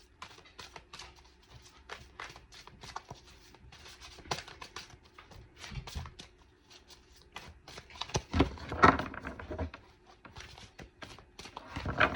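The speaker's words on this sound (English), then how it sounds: "Really struggling with shuffling this morning." A deck of tarot cards being shuffled by hand, heard as soft, uneven riffles and taps with a brief louder flurry near the end, close and mostly alone.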